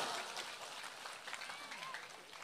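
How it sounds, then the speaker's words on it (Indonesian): A seated audience at an Islamic religious talk claps their hands in a faint, distant round of applause, with a few faint voices mixed in. "Tepuk tangan dulu dong."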